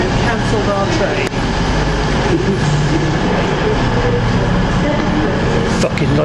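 A London Midland Class 170 diesel train arriving at a station rumbles loudly and steadily with a deep, continuous roar and faint clatter, close by, with a couple of brief knocks.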